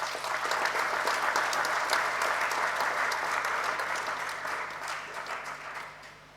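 Parishioners applauding during a thanksgiving Mass for a parish anniversary in church, dense, loud clapping from a full congregation that holds steady and then tapers off.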